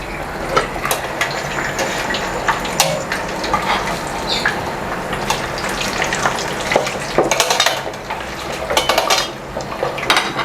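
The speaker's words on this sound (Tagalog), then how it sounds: "So, mainit na tong mantika natin. Now, ilagay na natin ulit." Crispy pata pork sizzles and deep fries in hot oil, a loud close crackle with clattering pots and utensils as the piece is shaken and moved in the pan, no talk.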